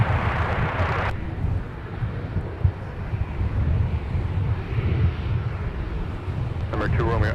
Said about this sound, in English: 2264, This is Mountain Air Cargo. It's coming in from Duluth.